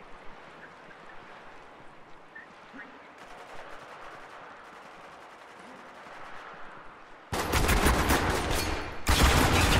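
Gunfire erupts in Spec Ops: The Line multiplayer, with a quiet rushing backdrop giving way to loud, dense bursts of rapid shooting near the end.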